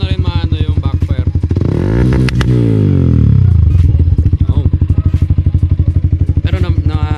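A Yamaha Sniper 155R motorcycle with an upgraded ECU revs hard up to its rev limit and falls back, rising and falling loudly close by, then settles into a choppy, pulsing idle with sharp crackles.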